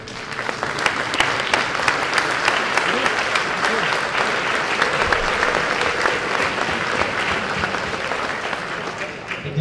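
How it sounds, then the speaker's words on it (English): A large conference audience claps steadily and loudly, a dense, sustained standing round of applause with a few cheers mixed in. "I would like everyone to stand up and give him a round of applause."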